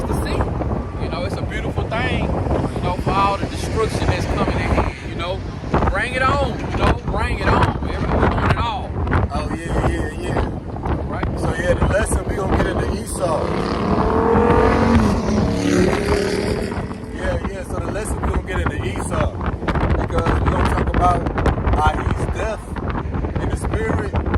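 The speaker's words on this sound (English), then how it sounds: "the wind blowing pretty hard" Strong wind gusting hard across an outdoor microphone, a steady roaring buffet that runs loud and unbroken throughout with rumbling low-end noise and no clear pauses.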